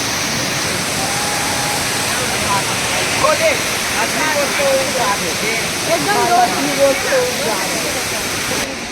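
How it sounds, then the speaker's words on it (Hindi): Tirathgarh waterfall near Jagdalpur in Bastar pours in a steady, loud roaring hiss, with voices and crowd chatter rising faintly over the continuous rush of falling water. "ये जस्ट नीचे से गिरत है संगवारी वाटरफॉल"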